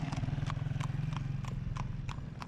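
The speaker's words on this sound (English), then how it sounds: "the first time I've ever seen a horse being led by a motorcycle before" A horse clip-clops along a road in a remote Uruguayan village, led by a motorcycle. Its hooves strike in a steady, fairly quick rhythm over the low, continuous hum of the motorcycle engine.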